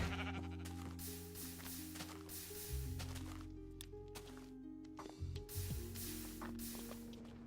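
Sheep in a cozy video game bleat repeatedly over layered game music, several short nasal bleats at irregular intervals, fairly close, with no talk.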